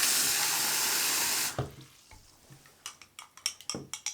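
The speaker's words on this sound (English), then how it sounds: "So I'm just going to fill this with a little bit of water." Tap water pours steadily and loudly into a cup, then cuts off, leaving a few light clinks and knocks from handling the cup.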